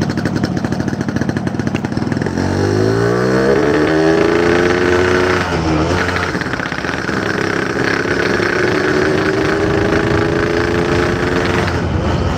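A Yamaha RX King motorcycle engine runs close and loud with a busy two-stroke rattle, its pitch rising and falling through a rev before settling back into steady running.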